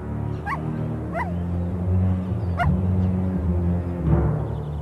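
Dogs bark and yip a few times at a distance over a steady low rumble of background noise.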